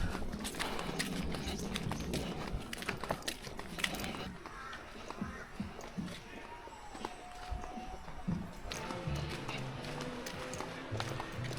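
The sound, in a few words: horse walking, hooves clip-clopping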